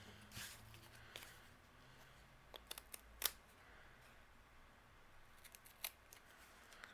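Scissors snip through excess burlap in a string of faint, crisp clicks, spaced unevenly against a quiet room background.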